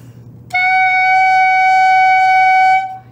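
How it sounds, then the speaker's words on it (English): Clarinet played with the instrument pointing down, one steady sustained note about two and a half seconds long with rich harmonics, loud and close, entering after a short quiet pause and then stopping cleanly. "And if we put our clarinet in our mouth, with our clarinet pointing down, not out, it sounds like this."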